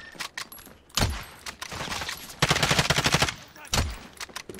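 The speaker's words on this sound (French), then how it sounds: "Là-bas, ça tire." Bursts of automatic gunfire crackle through a Warzone match, with short separated volleys, a dense rapid stretch in the middle and a final burst, loud and close against faint background noise.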